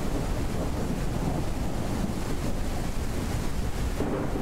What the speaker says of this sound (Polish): ale te grzmoty to strasznie głośno są.